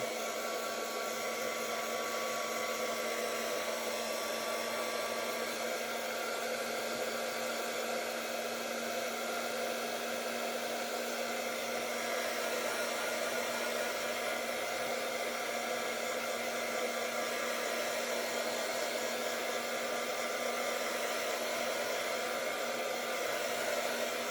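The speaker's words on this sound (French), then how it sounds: "soit on utilise un sèche-cheveux ou un gun" Heat gun blowing hot air to dry acrylic paint on a mixed-media collage card, a steady hissing airflow with a faint hum, holding at even level for the whole stretch with no talk.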